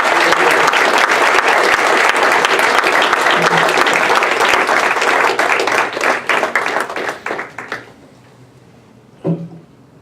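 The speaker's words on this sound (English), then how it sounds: "let's give Bill one more round of applause" A large audience gives loud, close applause after a keynote talk at a sociological association meeting. Dense clapping continues for about six seconds, then thins into scattered claps and fades out, with a brief sound near the end.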